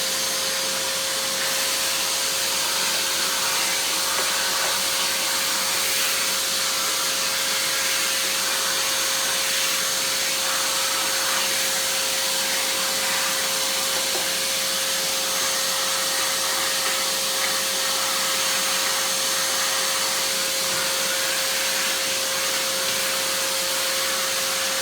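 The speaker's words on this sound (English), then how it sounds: "It's a tall tub vac, so let's use that." A Hoover Convertible tall tub vacuum cleaner runs continuously with a loud, steady motor whine and a constant whooshing airflow, unchanging from start to finish.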